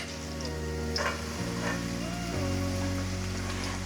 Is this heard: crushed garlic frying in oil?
yes